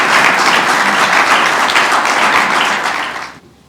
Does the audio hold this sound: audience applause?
yes